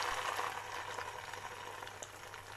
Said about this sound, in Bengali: ডিম ভাজার জন্য তেল দিয়ে দিলাম